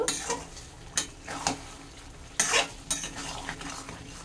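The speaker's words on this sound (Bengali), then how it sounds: "এই চিনি দেওয়ার পরে এটাকে আমি 10 মিনিট এইভাবে নাড়াচাড়া করে ফোটাবো।" Sweet and sour mango pickle boils with sugar in a pan, bubbling and sizzling continuously while a spoon scrapes and stirs in irregular strokes, close and clear with no talking.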